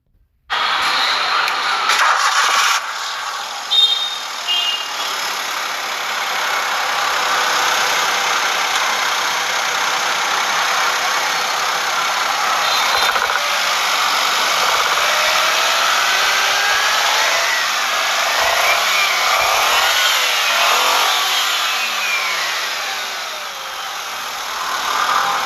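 A 2012 Maruti Wagon R VXi petrol car engine runs steadily at idle for the whole stretch, a close, even hum with no talk over it.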